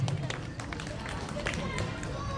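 Wedding guests at the central ceremony for newlyweds Jefferson and Natalie break into loud, dense applause that runs steadily throughout, with a murmuring crowd underneath.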